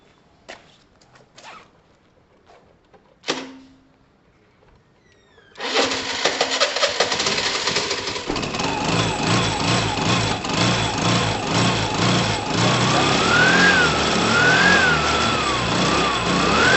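A 2012 Piaggio Typhoon scooter with a swapped engine and carburetor gives a few clicks and a short cranking burst, then catches and runs steadily, the engine note rising and falling with a few revs that build toward the end.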